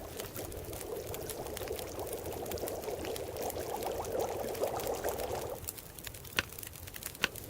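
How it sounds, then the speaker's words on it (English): Water boiling in a pot in the survival video game The Long Dark, a continuous bubbling, rushing simmer that cuts off abruptly, followed by a few faint clicks. "Boil 2 liters more water."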